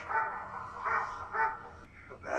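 A dog in a scene from The Walking Dead gives a few separate barks and yips at a moderate distance, spaced irregularly and fairly quiet.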